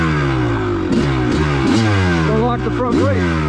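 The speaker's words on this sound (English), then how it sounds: "that is why I'm revving the engine as I go down these hills" A Kawasaki KX250 two-stroke dirt bike engine revs up and down while descending a hill on a dirt trail, loud and close, with a voice talking over it.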